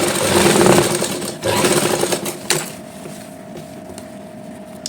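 A sewing machine stitching a Patiala salwar whirs in a loud, close run of rapid stitching that stops and restarts briefly, then fades into a quieter steady hum.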